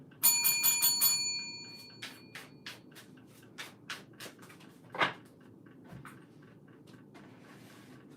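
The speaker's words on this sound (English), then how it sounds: "I almost feel like we want to ring the bell" A small bell rung in a quick ringing series at the start, then a string of lighter dings and clinks trailing off, close and alone without speech.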